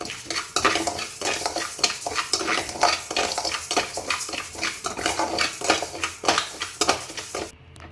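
Rice frying and crackling in oil in a pan while fish curry masala is prepared, a steady dense sizzle with stirring scrapes and spoon clinks throughout, close and alone.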